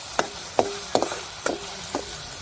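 Chickpea-greens masala with chili, garlic and cumin being sautéed, five sharp spoon strikes against the pan at a steady pace over a faint background sizzle, close and without talk.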